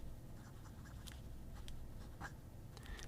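A fine steel nib fountain pen writing on paper, faint close scratchy strokes in short irregular bursts over a quiet hiss.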